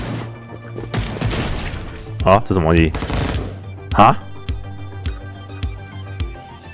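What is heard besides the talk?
gunshots in a video game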